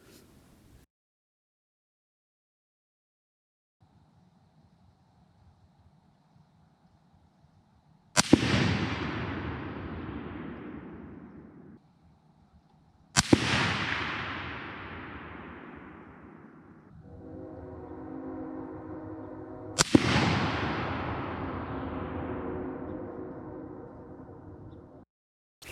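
Three loud rifle shots from a Ruger M77 in .308, each a sharp crack with a long decaying rumble, spaced roughly five to seven seconds apart outdoors after a quiet stretch with faint low hum.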